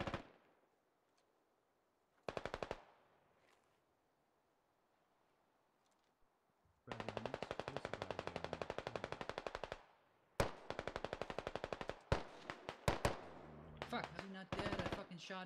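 Rapid automatic gunfire in the Squad Ops shooter, coming in several sharp, loud bursts of machine-gun fire separated by near silence, with a few single shots late on.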